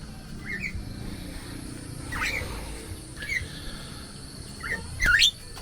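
Javan myna calls in a rural farm setting: several short, sharp chirping whistles spaced a second or so apart, ending in a louder rising call, over faint background noise.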